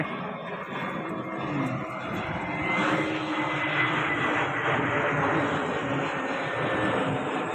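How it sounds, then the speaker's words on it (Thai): A fixed-wing airplane passing overhead in Bangkok, a broad continuous engine roar that swells slightly and holds steady, fairly loud and constant throughout. "ฟังเสียงเครื่องบินไปน ำมาทุกห้านาที"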